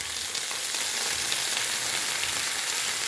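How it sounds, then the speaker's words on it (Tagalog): Kangkong sautés with garlic, onion and tomato and tofu for adobong kangkong, giving a loud, dense, continuous sizzle close up with no pauses. "ginigisa ko na sa bawang, sibuyas, kamatis"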